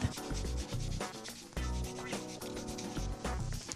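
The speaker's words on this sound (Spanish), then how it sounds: "vamos a afinar cualquier rayadura que haya podido quedar con la lima spongy que tiene un abrasivo 180 por 180" A 180/180 grit sponge file is worked across a fingernail, giving close, brisk rasping strokes in a quick repeating rhythm with short pauses between passes.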